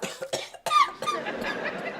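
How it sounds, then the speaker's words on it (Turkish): Several short, harsh coughs sound close by in quick succession, followed by a rougher, drawn-out cough. "Öksürük yok"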